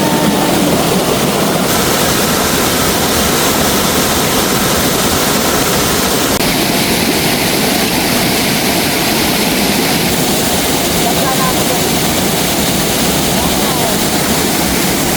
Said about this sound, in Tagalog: Look at the waterfalls, guys.